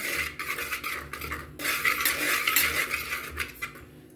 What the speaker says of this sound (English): she's stirring the powder so that it gets mixed well